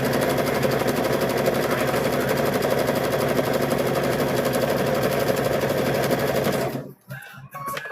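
A sewing machine runs a steady straight stitch across the edge of a quilt's binding, a continuous close mechanical whir that cuts off near the end, leaving a few soft handling sounds.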